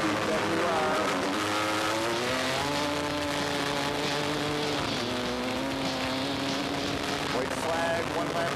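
A Yamaha 250 WR motorcycle races on an ice track at a winter event, its engine screaming at high revs in a steady, sustained drone, close and loud, with pitch rising and falling through gear changes.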